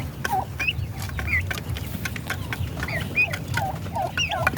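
One-month-old turkey poults chirp in a rapid, overlapping chorus of high peeping calls, close and fairly loud over a low rumble of background noise, with no talking.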